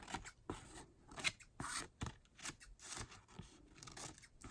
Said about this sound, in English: go back with my trimmer to cut off any uneven parts